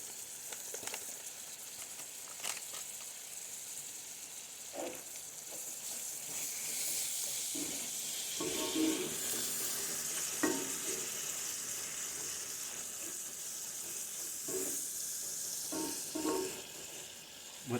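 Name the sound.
corn with taco seasoning sizzling in a pan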